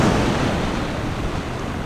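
Ocean surf washes steadily onto a rocky, sandy beach during shore fishing for corbina and croaker, a continuous broadband roar that stays loud and close with no talk over it.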